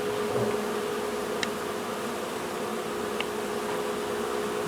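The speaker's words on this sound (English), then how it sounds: "look at these bees, they're just kicking butt inside of some heavy machinery" Florida honeybees swarm inside a heavy shovel excavator, giving a steady, dense buzzing drone with a faint hum that runs unbroken and fairly close throughout.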